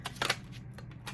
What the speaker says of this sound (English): now I'm shuffling again